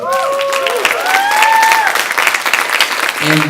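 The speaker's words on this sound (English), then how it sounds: "A round of applause for Epiphany Dance Company." A crowd at a performing arts showcase claps and cheers for a dance company, a short dense burst of applause with a few whoops sliding over it, close and lively throughout.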